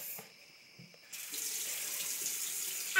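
Tap water running into a bathroom sink during a nighttime tooth-brushing routine, a steady faucet stream starting after a second and continuing to the end.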